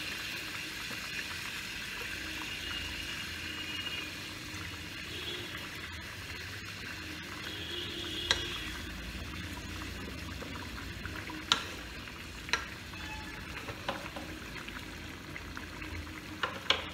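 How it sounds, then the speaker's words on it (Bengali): Water added to a simmering Wallago catfish (boal) curry gives a steady, soft hiss and bubbling sizzle that runs throughout, broken near the end by a few faint clicks. "দেখুন আমি জল দিয়ে দিলাম।"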